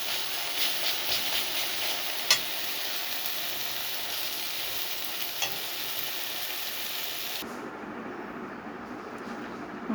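Leafy greens fry in ghee with a steady bright sizzle and crackle, a few stirring clicks breaking through, before the hiss drops sharply near the end.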